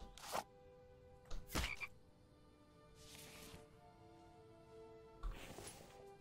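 Frogs croaking in the survival video game The Infected, a few short sharp croaks at irregular moments over a soft steady ambient bed, fairly quiet and close.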